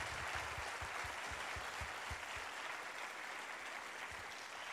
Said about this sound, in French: Allez, on peut encore les applaudir, s'il vous plaît